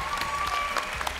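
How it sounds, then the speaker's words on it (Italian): Audience applause at a hair and style show in Riccione, steady close clapping lasting about a second with a faint tone underneath. "Applauso meritatissimo."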